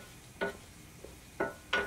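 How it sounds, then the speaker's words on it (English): Tortellini go into a pan of sauce and peppers, giving three short soft splatting sizzles with a quiet tap between them, over a faint background hiss. "I'm going to put them right into the pan with the sauce and the peppers"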